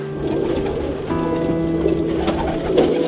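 Pigeons in Bushwick coo in low, throaty murmurs over a steady outdoor hum, several birds close by and layered together.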